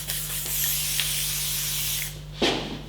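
Schwarzkopf Silhouette matte hairspray sprayed from a can onto a man's hair while styling a messy quiff, a steady close hiss lasting about two seconds, then a brief second puff near the end.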